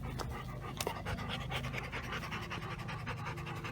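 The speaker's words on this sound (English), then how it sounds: "See, Ike is panting less" A dog pants rapidly and steadily up close, a continuous rhythmic huffing with no talking.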